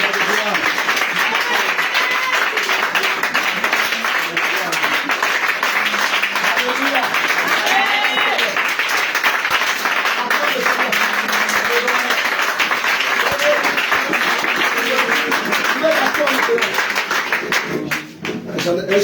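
A church congregation at a prayer and teaching gathering claps and cheers continuously, a dense, loud wash of applause and acclamation with voices mixed in throughout, easing off only briefly near the end.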